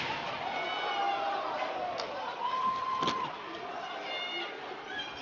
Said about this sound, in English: it looks like another big crowd here tonight at Mullet Arena taking this one in